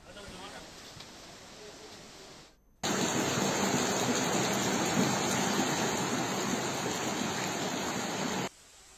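Heavy rain and fast-flowing water in Uttarakhand, a steady dense rushing roar that cuts in abruptly after a quieter stretch and holds loud before stopping.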